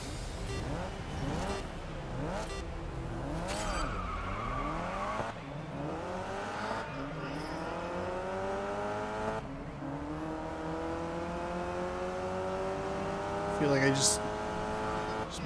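A NASCAR stock car engine in the racing game Grid Legends revs and shifts through rising gear sweeps. A brief tire squeal comes late, and a person talks over the steady engine roar.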